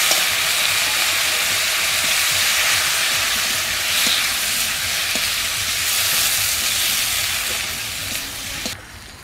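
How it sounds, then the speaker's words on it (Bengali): Potatoes and elephant foot yam with chili powder and a splash of water sautéing in a pan, giving a steady loud hiss and sizzle throughout with a few faint clicks of stirring. "অল্প একটু জল দিয়ে আর একটু কষে নেব।"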